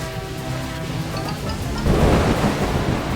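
Thunder from lightning in the video game A Hat in Time rumbles loudly, rolling low and building into a heavier crash over steady rain-like noise and background music.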